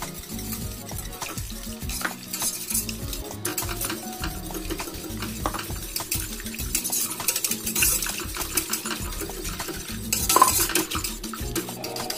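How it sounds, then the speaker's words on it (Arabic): Milk is stirred into a butter and flour roux for a lasagna béchamel: a steady scrape and clink of a utensil against the pan, alongside a soft sizzle, continuous and close, with no voices. "نزيد الحليب شوي بشويه، نحركها"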